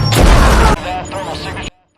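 Explosion in the sci-fi film Atlas as the terrorist robot Casco blows up an assault squad: a loud, dense broadband blast for most of a second, then a rumbling, crackling tail with voices mixed in, cutting to near silence at the end.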